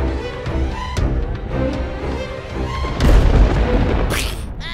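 A sharp, loud firecracker blast bursts out during Diwali over a tonal background, followed by a crackling, hissing tail.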